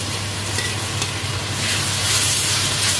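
Chicken giblets and celery stir-fried in a wok, with chilli in the mix, giving a steady close sizzle and frying hiss with light stirring scrapes throughout, and no voices.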